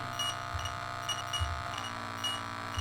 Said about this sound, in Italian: C'è qualche beep che non ho capito cos'è, la radio forse.